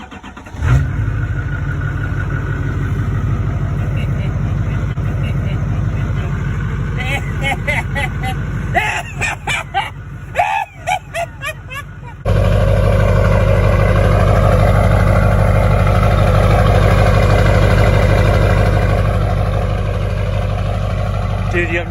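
An LB7 Duramax diesel truck engine on a cold morning around 41 degrees, cranking in uneven bursts, then catching with a sudden loud rumble and settling into a steady, heavy idle. Voices talk over the start.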